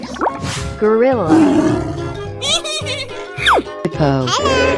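A gorilla roars in a 3D animal slide video game. The roar comes in several loud, growling bursts over a bouncy game soundtrack with squeaky tones.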